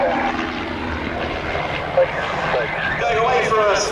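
A single-seat Pitts S1D propeller biplane of the Trig aerobatic team performs a display at the Duxford Air Festival, its engine note rising and bending as it manoeuvres, heard under a commentator's voice.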